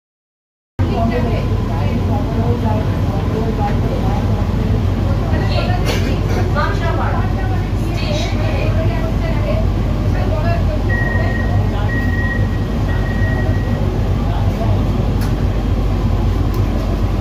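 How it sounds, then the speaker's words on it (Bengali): The Sealdah–Ranaghat AC local train, a suburban electric train, runs with a constant loud rumble and wheel noise heard from inside, with voices at times and a brief repeated beep partway through. "আমাদের ট্রেন কল্যাণী ক্রস করে নিল"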